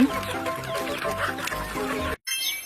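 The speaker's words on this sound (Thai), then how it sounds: "ไก่" Chickens cluck in quick, close bursts over a busy background, cut off by a brief silence before resuming.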